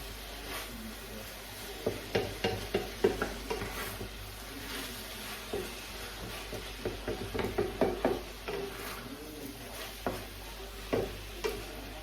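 Vegan chilli and garlic chicken is stirred in a pan with rice nearby, a quiet sizzle under repeated spoon scrapes and knocks that come in irregular bursts throughout.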